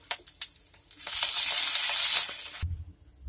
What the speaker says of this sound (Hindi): लहसुन का कच्चापन खत्म होने के बाद हम इसमें हल्दी पाउडर और लाल मिर्च पाउडर डाल के थोड़ी देर और फ्राई करेंगे